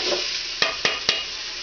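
Carrots and onion stirred in a soup pot for cabbage soup, giving a steady sizzling hiss with three sharp scrapes of the spoon against the pot, close and fairly loud, no voices.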